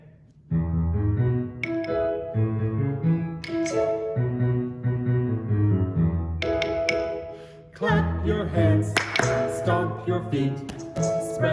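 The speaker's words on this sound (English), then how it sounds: "here we go with Trish playing the piano, clap, stomp, and I get to play the claves" Piano music with hand clapping, foot stomping and claves, played in a children's Vacation Bible School session; chords and percussive taps fill the clip after a brief pause near the start and again around eight seconds.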